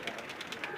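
Pigeons coo in a soft, repeating rhythm, several birds close together, the calls steady under a constant background with no talking.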